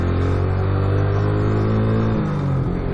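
A motorcycle engine labours hard uphill at night on a dark, winding mountain road, a loud steady drone that dips and shifts near the end as the rider struggles to find first gear.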